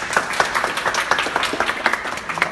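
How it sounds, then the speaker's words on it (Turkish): Students in a classroom clapping together, a lively run of distinct, closely spaced hand claps with uneven rhythm, fairly near and clear, with no talk over it. "Hatta alkışlıyorlar bak hatta bak."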